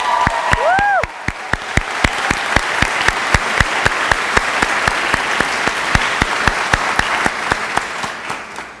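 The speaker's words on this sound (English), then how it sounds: "All right, round of applause." Steady applause from a college convocation crowd, sustained evenly throughout, with a brief whoop near the start.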